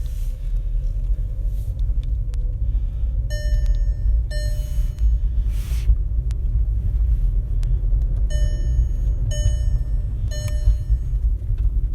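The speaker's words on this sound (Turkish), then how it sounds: "Çok güzel bir sesi var aracın." Small three-cylinder engine of a Skoda Fabia running steadily, a constant low rumble heard close throughout, with short repeated high electronic tones chiming over it.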